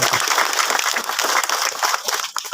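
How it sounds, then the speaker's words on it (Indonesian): An audience at a shallot seed launch event for farmers applauds, a dense, continuous burst of clapping that stays loud throughout and tapers slightly at the end. "kita berikan dulu satu kali aplaus buat Bapak Bupati"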